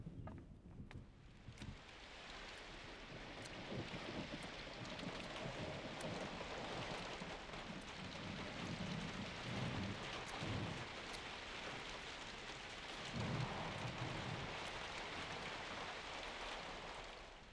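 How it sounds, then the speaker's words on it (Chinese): Steady rain pours with low thunder rumbling underneath, a continuous wash of noise that stays fairly quiet and distant throughout, with no voices. "哎呀，糟糕，真要下雨了"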